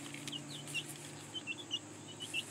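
Soft, high clucks from a chicken come in scattered bursts over a low steady background hum, fairly quiet and a little distant.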